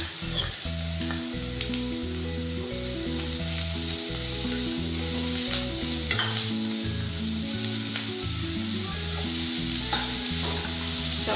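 Shredded cabbage and grated carrot frying in a pan, a dense constant sizzle throughout with soft stirring underneath and a faint steady hum in the background.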